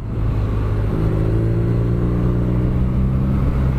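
A 2017 BMW R nine T motorcycle with its boxer engine pulls hard, its deep rumble climbing steadily in pitch as it accelerates, loud and close with wind noise underneath.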